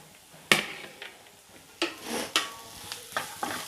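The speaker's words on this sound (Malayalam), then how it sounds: "അപ്പോൾ എണ്ണ ഒന്ന് ചൂടായതിന് ശേഷം സവാളയും വെളുത്തുള്ളി ഇട്ടെടുക്കാം." Onion and garlic tossed into hot sunflower oil for spicy egg fried rice, a soft sizzle under sharp spoon scrapes and stirring knocks against the pan, close and intermittent.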